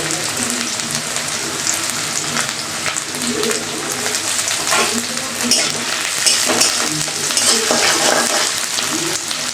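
Chopped onion and garlic fry in Fortune refined oil in a pan, giving a steady, close crackling sizzle with occasional stirring scrapes throughout.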